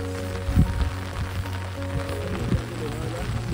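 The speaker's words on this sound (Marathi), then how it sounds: "पाऊस आला जोरात." Heavy rain pours on a mountain trek to Shingu Devi near Bandhawadi, a steady broadband hiss with a few soft thuds and a low tonal drone beneath, sustained throughout at moderate level.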